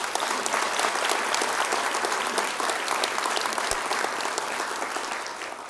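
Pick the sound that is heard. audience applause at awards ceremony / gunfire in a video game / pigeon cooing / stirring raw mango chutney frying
audience applause at awards ceremony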